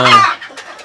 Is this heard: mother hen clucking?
yes